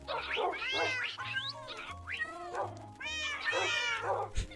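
Several cats meow repeatedly in the Minecraft video game, with rising and falling cries that overlap, fairly close, over a soft pulsing low background hum.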